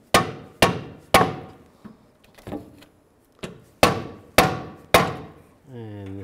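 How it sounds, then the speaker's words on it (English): Hammer taps nudging the lower control arm of a 2003-2007 Cadillac CTS back into position, a series of sharp, close knocks with uneven spacing and a few softer hits, then a brief tonal hum at the end. "So I'm just gonna tap the control arm just to get it back in position."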